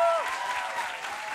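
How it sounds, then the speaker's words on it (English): Short stretch of audience applause at a speaking event, a steady crowd clapping wash with a whistling tone at the start, fairly loud and even. "Come on up. Loud applause, please."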